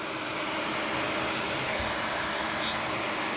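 A heat blower warms vinyl for peeling, giving off a loud, steady rushing airflow hiss with a constant tone throughout, close up and with no talk.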